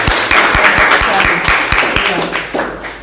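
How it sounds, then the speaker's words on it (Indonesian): An audience at a press certification event breaks into loud, dense applause that carries steadily from start to finish, with a few sharp individual claps standing out and a speaking voice running faintly beneath. "Kita kasih aplaus lagi dong."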